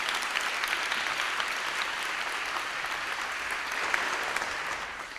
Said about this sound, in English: you're going to realize how premature that applause was